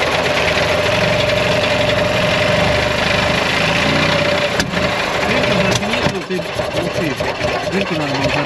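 The engine of a rare 6x6 all-terrain vehicle runs on full choke at a loud, steady, buzzing idle. Near the end it stutters and changes pitch as the throttle is touched.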